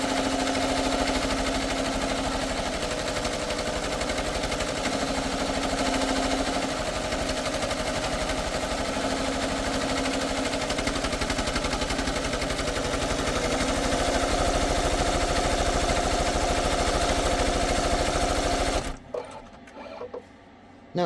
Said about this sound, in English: when I hit go, I'm on needle 1. It's going to go and stitch out the first letter, which is a fancy G.